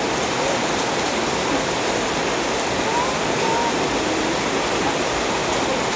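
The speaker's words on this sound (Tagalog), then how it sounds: "Grabe ulan, walang customer." Heavy rain pours as a dense, constant hiss at a steady loud level with no breaks, no voices standing out over the downpour.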